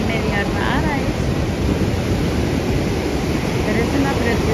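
Ocean waves on a beach roll and hiss in a continuous loud wash, with wind buffeting the microphone and no one speaking.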